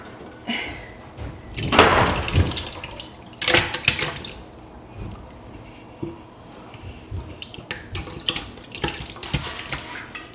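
Tap water splashes into a cheese pot in a kitchen sink, with bursts of running water and clattering as the pot shifts under the stream, loud and close.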